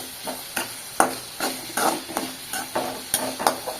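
Tomatoes fry in a pan for a dried fish curry while a spoon stirs them, a quiet sizzle under regular scraping strokes and taps against the pan, with no talking.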